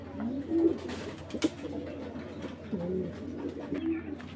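Domestic Giribaz tournament pigeons in a loft give repeated low, throaty coos in a few separate bursts, close and moderately loud over a steady background hum.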